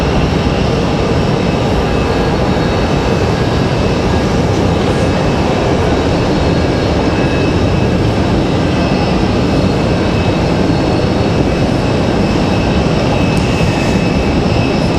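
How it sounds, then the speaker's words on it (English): A Delta Connection Embraer E175 jet prepares to depart at Raleigh-Durham International Airport, its engines giving a loud, continuous broadband roar that holds steady throughout without a break. "So Delta connection E175 getting ready to get out of here."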